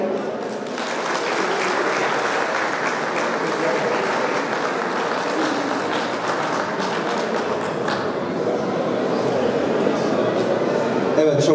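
Audience applause at an album launch gala, dense sustained clapping from a large crowd filling the room for the whole stretch, loud and continuous without pauses.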